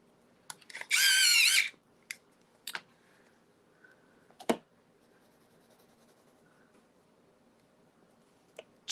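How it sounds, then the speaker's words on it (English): Colored pencil shading on paper in a quiet room, with one sustained scratchy stroke of about a second followed by a few short, sharp scrapes and taps spread across long silent gaps. "Let me try a little colored pencil shading to really set it off."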